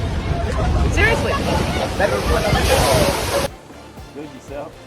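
Huge tsunami waves crash and surge on the shore at Suva, Fiji, a loud, roaring wash of water and wind that drops away abruptly after a few seconds, with voices mixed into the noise.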